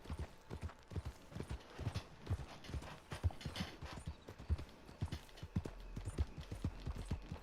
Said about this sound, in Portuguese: pegamos aqui nosso primeiro cavalo